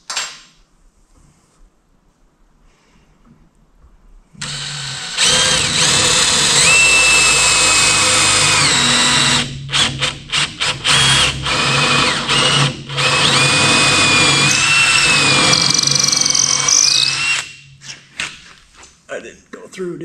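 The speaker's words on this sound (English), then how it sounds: "So I'm gonna drill an extra large hole in this so I can countersink this screw down into this part" A power drill bores an extra large countersink hole into a log, starting after a quiet lead-in and running loud and close for about thirteen seconds with stuttering pauses and pitch shifts before cutting out.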